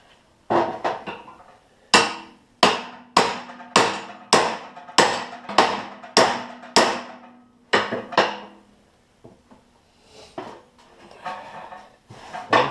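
A 1954 GMC fender is hammered against a heel dolly, giving about a dozen sharp metallic blows in a quick, even rhythm, close and loud. After the series a few softer, scattered taps follow.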